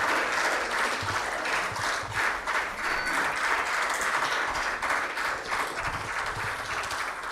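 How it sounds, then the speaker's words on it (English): Sustained audience applause fills the hall at a collaboration and signing ceremony, steady and dense for the whole stretch with no voices over it. "Please continue clapping as we can now felicitate our guests."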